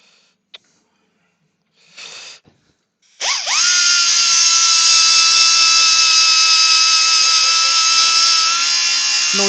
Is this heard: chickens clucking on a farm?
no